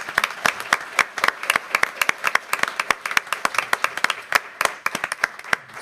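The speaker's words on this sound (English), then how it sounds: "Let's give them all another round of applause." A school board meeting audience gives a sustained round of applause, dense overlapping hand claps with sharp individual claps standing out, fairly loud and steady throughout with no talking.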